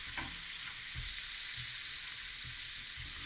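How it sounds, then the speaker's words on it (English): Butter-based white sauce sizzles and fries steadily in a pan on a hot plate, with soft stirring scrapes every half second or so, close and continuous. "We're now making a white sauce for our chicken and cream spinach."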